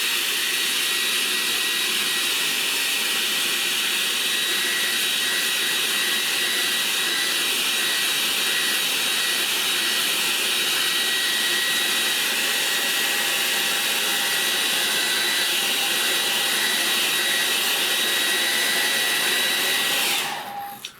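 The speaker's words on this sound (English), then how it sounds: "I have to use the hairdryer to take this tape off" A hair dryer blows continuously at close range to heat and loosen tape, a steady loud whirring rush that holds for a long stretch before cutting off at the end.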